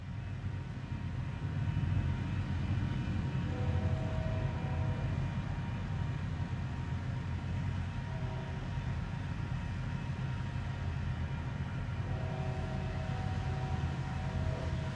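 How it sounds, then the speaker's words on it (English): A freight stack train approaching on nearby track, a steady low rumble of rolling railcars that holds through the whole stretch, with faint tonal squeals rising now and then above it. "Yep, sounds like we're getting a move on maybe on the stack train."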